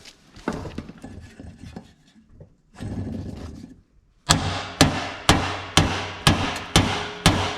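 A part on a Cub Cadet LTX 1042 mower is hammered to close a gap, a run of seven loud metallic blows struck in a steady rhythm, preceded by quieter scraping and fumbling, close up and without speech.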